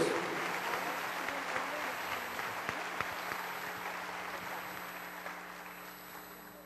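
A church congregation breaks into sustained applause during a sermon, a dense, steady wash of clapping that fills the whole stretch and fades slightly toward the end.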